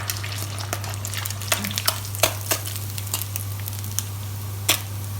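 Salted snakeskin gourami frying in hot oil, a constant close sizzle broken by sharp crackles and spitting pops at irregular intervals, with a low steady hum underneath.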